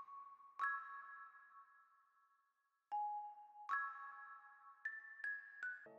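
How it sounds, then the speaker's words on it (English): Marimba preset from the Contact Mallet Flux bank in FL Studio plays a dry, unprocessed melody: struck mallet chords that ring and decay, followed by a quicker run of higher notes, clear and upfront. "chose the Marimba preset. So here's what the melody sounds like without any effects on it"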